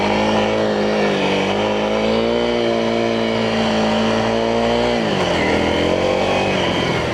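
Honda CRF300L motorcycle being ridden, a loud steady engine drone heard from on board, holding a constant pitch before dropping sharply for a gear shift and pulling again.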